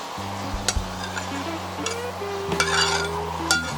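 Sausage pieces stirred into simmering spaghetti sauce in a pot, with scattered utensil clinks and scrapes over a steady low hum, a few sharper knocks standing out near the start and end.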